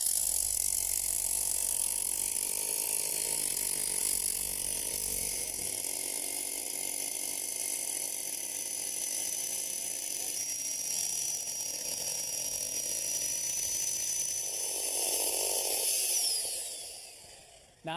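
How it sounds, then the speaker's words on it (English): A hammer drill drives half-inch re-rod into a hole as a long, continuous rattling mechanical grind, loud and steady for most of its length before winding down at the end. "the hammer drill sure makes short work of the job"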